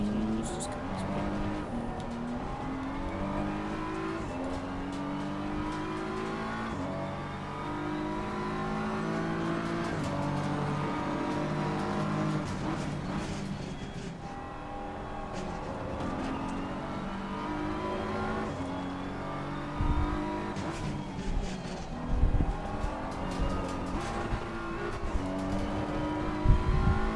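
GT3 race cars at Zolder in Assetto Corsa Competizione roar steadily, engines rising and dropping through gear changes, with tire squeal and the odd passing car, loud and continuous throughout.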